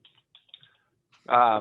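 A few light, sparse computer keyboard keystrokes tap quietly before a voice starts speaking at the end.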